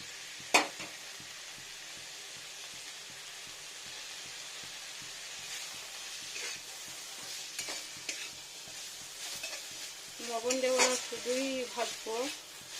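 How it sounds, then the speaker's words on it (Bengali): Banana flower frying in leftover fish-frying oil, a steady close hiss and sizzle with occasional stirring clatter and a brief sharp knock near the start, louder bubbling toward the end. "এই বাঁচানো তেলটাতে আমি মোচাটা নিংড়ে নিলাম ধুয়ে ভালো করে ছেঁকে নিয়েছি মোচাটা এখানে ভেজে নেবো একটু"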